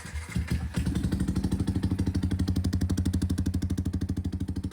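A motorcycle engine idles close by with a steady, even thumping rhythm after a brief starting sputter, running smoothly throughout with no knocking after a repair.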